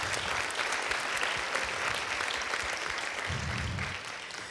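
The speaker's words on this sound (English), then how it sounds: "yes, give them a round of applause." Audience at an Evergreen college event applauding: dense, steady clapping from a crowd, fairly faint and distant, sustained for a few seconds before easing slightly.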